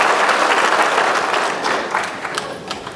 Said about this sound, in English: it always concerns me when people applaud that much before I speak